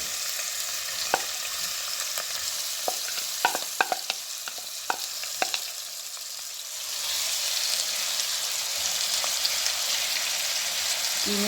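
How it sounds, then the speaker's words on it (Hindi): Half a kilo of minced mutton keema fries in oil in a pan, a steady close sizzle broken by sharp clicks of a spoon stirring and scraping, the hiss growing louder toward the end. "कीमे को हम भूनेंगे कि इसका कलर जो है वो चेंज हो जाए"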